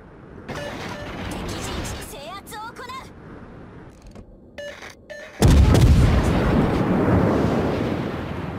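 Naval guns fire armor-piercing shells during a World of Warships battle. There is a sudden, loud, heavy boom midway, followed by a sustained rumble, after quieter game sounds and tonal effects. A voice talks over part of it.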